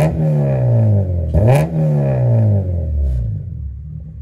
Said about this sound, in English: Running NVIDIA N1 exhaust. A loud ass exhaust. Pretty loud.